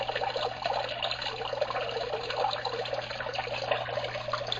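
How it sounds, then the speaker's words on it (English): Water pours steadily out of J siphons in an indoor DIY aquaponics system, a continuous close splashing rush over a low steady hum. "here you see the water coming out of the J siphons"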